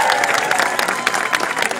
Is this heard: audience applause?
yes